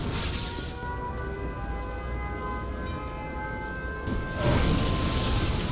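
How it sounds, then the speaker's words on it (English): A nuclear missile launches and detonates in the Red Alert 2 Yuri's Revenge video game, a sustained roaring rumble with a rising whistling tone, then a heavier loud blast swelling at the end, with no talk. "Warning, nuclear missile launched."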